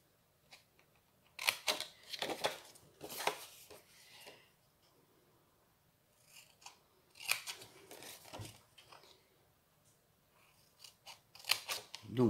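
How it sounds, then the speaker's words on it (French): Scissors snip through paper for a homemade box in repeated bursts of crisp cutting, close and fairly loud, with quiet pauses of handling and rustling between them. "Je coupe là pour pouvoir faire ma boîte que d'un côté."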